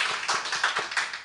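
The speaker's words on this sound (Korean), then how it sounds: "우리 큰 박수로 환영하겠습니다." A church congregation gives a short burst of applause to welcome newcomers, a quick run of rhythmic claps that are close and moderately loud.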